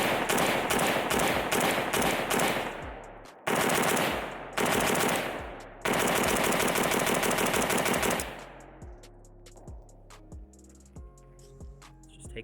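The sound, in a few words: gunfire from Pioneer Arms 556 sporter underfolder AK rifle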